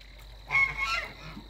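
A single goose honk, a short nasal call rising then falling, heard at moderate distance over a quiet outdoor background.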